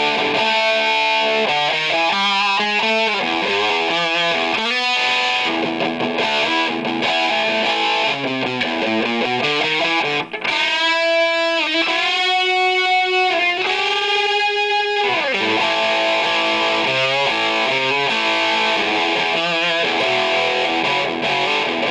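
An electric guitar played through a Lenahan London Lead White Plexi amplifier, cranked into overdrive with the master volume low, plays distorted chords and sustained lead lines for the whole stretch.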